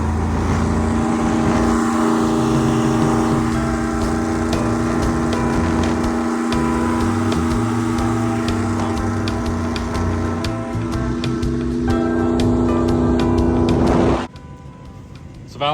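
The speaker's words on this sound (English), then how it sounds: "Let's launch the old jet boat and have a day on the water." Hot rod jet boat with a 5.3 LS V8 swap and headers running steadily on the water, a loud continuous engine drone with strong low harmonics for about fourteen seconds before it drops off sharply near the end.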